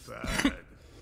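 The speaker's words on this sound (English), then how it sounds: "Sorry for coughing." A single short, muffled cough or throat-clearing burst, close and fairly quiet, with a soft low hum behind it.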